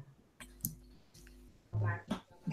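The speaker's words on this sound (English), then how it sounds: "I'm typing." Quick clicks of typing on a computer keyboard, light keystrokes in short uneven bursts close by and fairly quiet, with a brief voice heard near the end.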